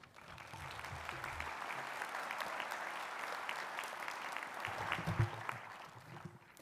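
A graduation audience applauds warmly to welcome a speaker at a College of Health Sciences ceremony, a steady wash of many hands clapping from start to finish, swelling slightly near the end.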